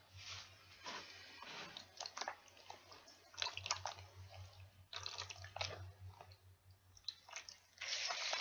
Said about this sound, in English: Put in the water again, huh?